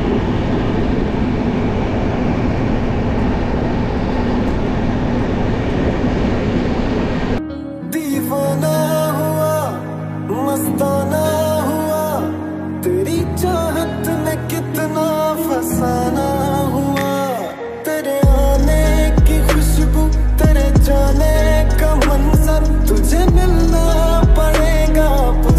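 The Pooja Express train runs from Delhi toward Jammu, heard from inside a general coach: a steady loud rumble that gives way to layered tonal whines, with a heavy low drone toward the end.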